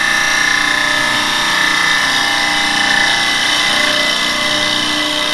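A carbide woodturning tool cuts steadily across a spinning wooden bowl on a lathe, producing a loud, continuous broadband whir with no pauses or talk.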